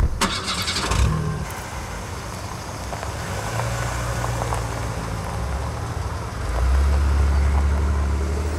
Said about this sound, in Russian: Дайте машину завести